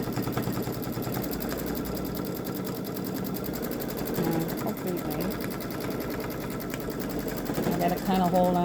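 A Babylock Solaris Vision sewing machine quilts edge to edge with a fast, steady mechanical rattle of stitching, close and continuous, with a voice talking over it.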